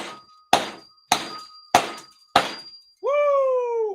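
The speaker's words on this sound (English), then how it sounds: "That's a bell sound right there." Four evenly spaced, hard metallic strikes each leave a clear ringing tone, followed by a sustained, bright bell-like ding at the end, all loud and close.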